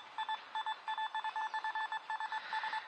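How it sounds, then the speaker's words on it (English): A Simplex metal detector sounds over a costume jewelry ring, giving a rapid, irregular run of short electronic blips in clusters, fairly quiet, with no talking. "you hear those little blips and bloops that it catches every now and then"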